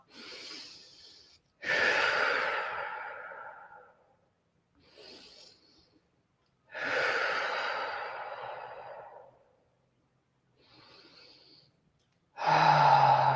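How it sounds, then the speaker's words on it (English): Three slow, deep breaths during a guided meditation, each a soft inhale through the nose followed by a longer, airy exhale through the mouth, close and alone in a quiet room with short pauses between. "Let's take 3 deep breaths, in through the nose, out through the mouth."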